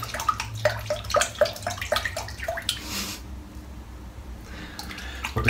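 Warm water runs from a tap to heat a shavette razor blade, splashing and dripping with sharp clicks and gurgles, then cuts off briefly before flowing again, close and fairly loud.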